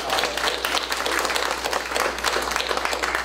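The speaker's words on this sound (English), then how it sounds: "Let's have a round of applause for our brave MPPs for coming out tonight" A room full of people at an evening patient healthcare forum claps steadily for the provincial politicians, a dense, even wash of applause that carries at constant loudness from start to finish with no voices on top.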